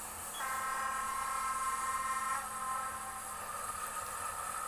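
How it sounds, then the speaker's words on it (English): A train horn blows in a train-driving video game near Bristol: a steady, multi-tone blast lasting about two seconds, over the continuous rumble of a passing train, with no talking. "Oh, another train."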